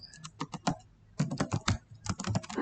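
Keys clatter on a computer keyboard during school profile data entry, two close bursts of quick, uneven taps separated by a short pause, with no voices.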